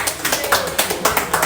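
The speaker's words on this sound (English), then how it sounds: "Clap him," A small crowd claps at a softball association opening ceremony, a short run of uneven, close handclaps with some chatter mixed in.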